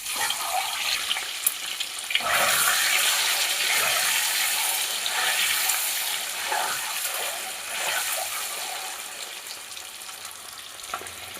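Eggs fry in hot oil with salt and turmeric in a wok, giving a steady, close sizzle with crackling bursts that swell early on and then hold at an even level.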